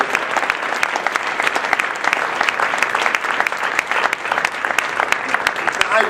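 A live drum-clinic audience gives a drummer sustained, loud applause, with dense crisp clapping continuing evenly for several seconds and faint voices mixed in.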